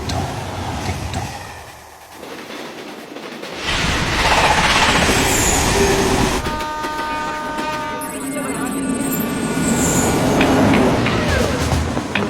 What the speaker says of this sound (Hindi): ट्रेन रुकी नहीं यार.